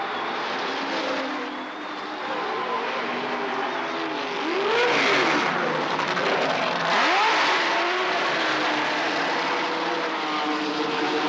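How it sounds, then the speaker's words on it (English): Can-Am race cars at Trois-Rivières in 1983 roar past on track, engine notes rising and sweeping in two loud pass-bys around five and seven seconds over steady crowd and circuit noise. "get him right back on the track before Crawford comes around"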